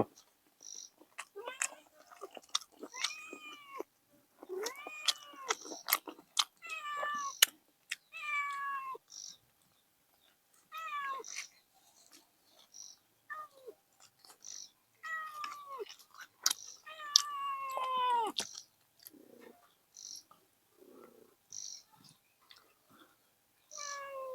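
A cat meowing repeatedly in short, fairly faint calls with gaps between them, over a quiet background with a faint chirp of insects.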